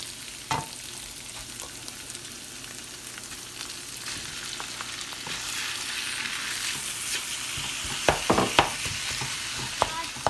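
Ground beef and peppers fry together in a pan, a steady hiss of sizzling with occasional spatula taps that grow into a cluster of louder scrapes and knocks toward the end, no voices over it.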